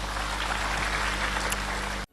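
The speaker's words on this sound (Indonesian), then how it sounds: "Bangkit berdiri, tepuk tangan yang keras buat Tuhan." A dense burst of applause from a church congregation, loud and steady clapping from many hands, cutting off abruptly after about two seconds.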